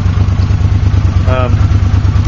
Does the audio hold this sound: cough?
no